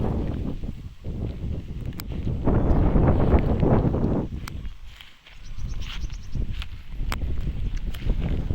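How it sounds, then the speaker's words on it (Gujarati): Gusty wind roars against the microphone in rising and falling waves on a farm, with occasional light clicks and rustles, no voices. "પવન આવે"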